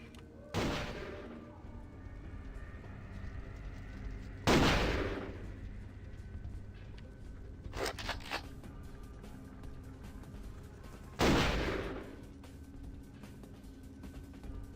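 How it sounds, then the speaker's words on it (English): Several loud video game gunshots, from Vampire: The Masquerade – Bloodlines, ring out at irregular intervals, each with a sharp crack and decaying boom, over a steady low background hum. "Where's the gunfire coming from?"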